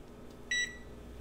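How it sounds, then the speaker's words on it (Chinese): A kitchen oven gives a single short electronic beep as it is switched on to preheat, clear against a faint, quiet background. "我现在把烤箱先打开预热"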